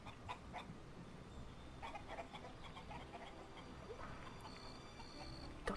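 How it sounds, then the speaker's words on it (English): Chickens cluck faintly in the video game ELEX, with scattered short bird calls over a quiet, rain-like background hiss. "They're chickens, not cave birds."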